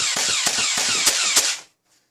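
An ANDRTI M416 toy launcher blaster fires in automatic mode, giving a rapid string of about six sharp mechanical snaps close by, then falls silent.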